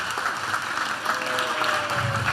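A church congregation gives a round of applause after a sermon, a dense, continuous wash of clapping that stays even and fairly loud throughout, with no speech on top.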